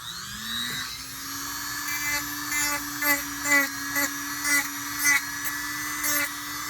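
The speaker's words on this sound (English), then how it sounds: "I'm just going and sanding that side down so there's not any sharp spots." A small high-pitched rotary tool whirs steadily, with a rhythmic series of brief grinding bursts as it sands the edge of a sterling silver bracelet.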